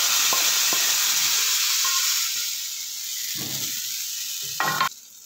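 Hot oil hisses and sizzles steadily in a wok as cumin is tempered over kadhi pakora, with a few clinks and a louder crackling burst near the end.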